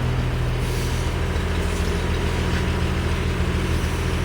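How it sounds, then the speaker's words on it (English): A steady, loud engine rumble runs without pause, deep and continuous, like an old car idling close by. "I like the way old cars sound."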